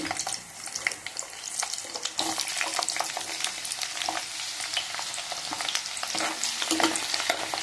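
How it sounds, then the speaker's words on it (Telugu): Amla (Indian gooseberry) pieces fry in groundnut oil in a kadai, giving a steady, close, busy sizzle full of sharp crackles and pops from start to finish, with no voices. "శనగ నూనె పోస్తున్నానండి ఈ మొక్కలను ఉసిరికాయ మొక్కలను కొద్దిసేపు వేయించుకోవాలి"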